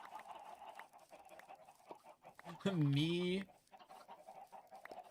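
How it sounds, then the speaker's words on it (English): Minecraft chickens cluck faintly behind a voice, and one loud rising and falling call stands out near the middle. "I can still hear the chickens"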